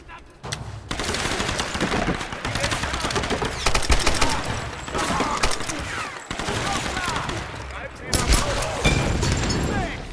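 Bursts of rapid automatic gunfire and single shots in the Tomb Raider video game, loud and close, with booming impacts and clattering mechanisms. A voice talks over parts of the action.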